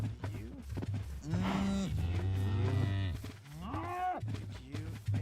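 Several cows moo in Minecraft, one low drawn-out call after another, loud and close, with a constant low hum beneath.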